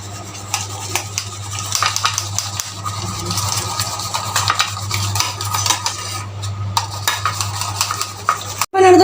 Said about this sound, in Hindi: मैं इसको बहुत ज़्यादा बीट कर रहा हूँ क्योंकि इससे कॉफ़ी जो है वो बहुत ज़्यादा स्मूथ और फ्रॉथी बनती है।